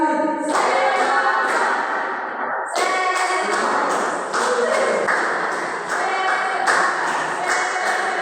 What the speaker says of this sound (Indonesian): Tepuk semangat tiga kali.